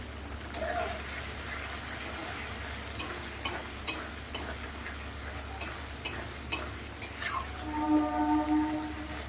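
A spice base with turmeric and chili powder sizzles in a pan on a home stove, with soft frying hiss under scattered clicks and scrapes of a spoon stirring. A brief voice murmurs near the end.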